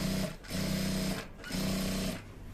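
Sewing machine stitching around the marked points of a welt pocket on an English-style trouser back, running in three steady, loud bursts with short pauses between them.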